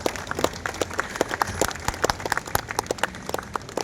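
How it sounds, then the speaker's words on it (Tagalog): Crowd applause at a city hall flag raising ceremony in Manila, many distinct claps from a moderate-sized outdoor gathering, crisp and irregular, continuing steadily with no voices over it. "Palakpak naman po."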